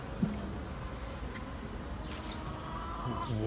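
Swarm of honey bees buzzing steadily around a beekeeper during a hive visit, a constant dense drone close by with no talking.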